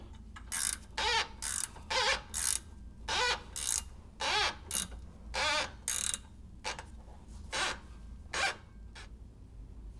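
A ratchet tightens the nut and washer on the lower end of an Isuzu Rodeo Sport suspension part, with about a dozen rapid zipping clicks in a steady back-and-forth rhythm, close and clear with no talk.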